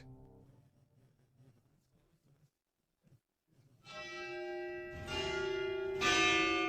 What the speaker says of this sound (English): You can hear the bell here right now.